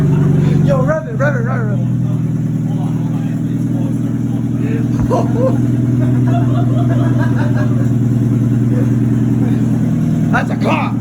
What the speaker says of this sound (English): we had the exhaust off and we had an open header, and you can't not start a car with an open header